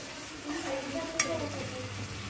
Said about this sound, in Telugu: పైకి తేలేలాగా ఇలా వేపుకోవాలండి.